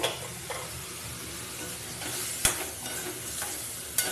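Fish curry masala cooks down in a pan with small splashes of water, giving a low, steady sizzle punctuated by a few distinct spatula knocks and scrapes, with no talking.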